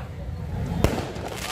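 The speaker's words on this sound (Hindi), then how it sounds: "आतिशबाजी का हर साल की तरीके से बड़े जोरों शोरों में यहाँ हुई" At a Christmas and Guru Gobind Singh Gurpurab celebration, one sharp firework bang cracks out midway over a steady outdoor background. People talk nearby throughout.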